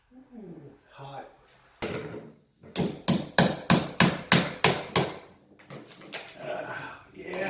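Interior door trim being pried off: a quick run of about eight sharp, evenly spaced knocks from a tool against wood, loud and close, with a voice heard before and after.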